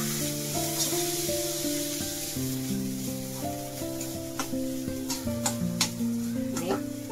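Peas hitting a hot pan of spiced samosa filling, sizzling softly beneath a steady tonal background with a few sharp stirring clicks near the end.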